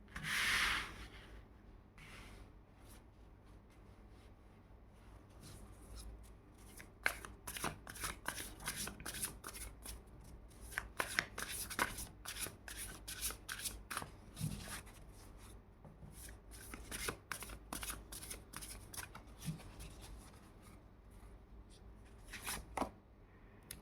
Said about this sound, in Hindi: और दो कार्ड ले लेते हैं